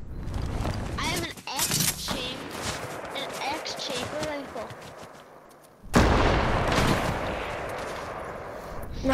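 Gunfire bursts out in a Fortnite match, rapid loud shots and booms crackling through the scene, with a sudden heavy volley near the end, while players talk over the action.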